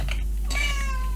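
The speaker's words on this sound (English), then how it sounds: "sorry, that's my cat." A house cat gives a single close meow that bends downward in pitch, standing alone over a steady low hum with no talking.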